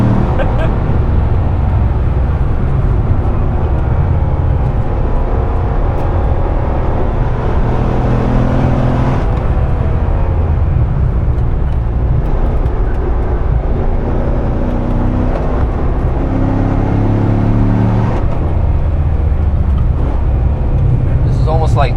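A Corvette C6 Z06 is driven through a second-gear corner, its engine a loud, deep continuous drone with shifting pitch from inside the cabin as someone talks over it.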